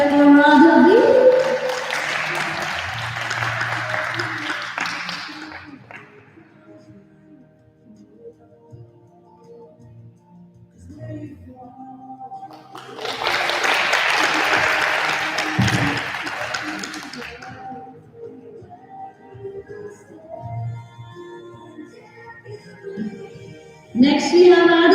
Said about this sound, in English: Let's hear it for Madhavi.